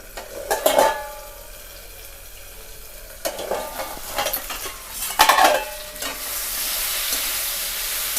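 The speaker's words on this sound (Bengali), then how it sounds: "ঠিক আমরা ঢাকা দিয়ে 2 মিনিটের মতন আমরা হালকা করে ভেজে নেব" Potatoes fry in a covered pan with a soft steady sizzle, broken by a few sharp clinks and scrapes of a utensil against the pan, the hiss rising louder near the end.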